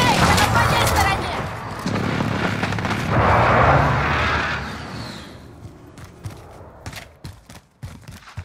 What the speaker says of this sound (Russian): Авиаудар противника.